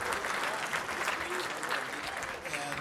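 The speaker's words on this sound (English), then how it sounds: "Let's get a round of applause for our volunteers." Audience applause at the Cedar, a Minneapolis concert venue, before a show: steady, dense clapping from a crowd filling the room for about three seconds, with no talk over it.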